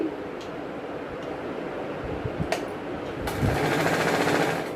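A sewing machine stitching along the right side of a blouse front panel, running as a steady dense rattling hum that grows slightly louder toward the end, with no talk.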